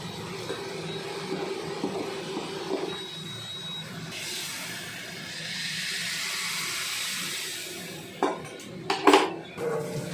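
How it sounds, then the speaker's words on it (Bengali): Metal pot lid and utensils clinking around a pot of thin Bengali fish curry, soft scrapes and a low hiss of steam, ending in a few sharp metallic clanks as the lid is set on. "এবার এটা ঢাকা দিয়ে রাখলাম।"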